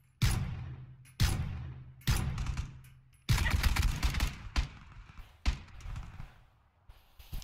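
Gunfire in the video game PUBG: several loud, close shots, with single blasts first and then a rapid burst, each ringing out with a decaying tail.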